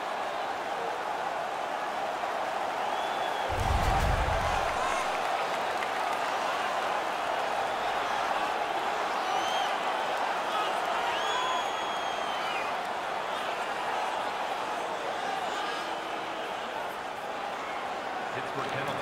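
An arena crowd cheers in the NHL 17 hockey video game, a dense and constant roar that holds steady throughout, with one low thump early on and a faint commentary voice underneath.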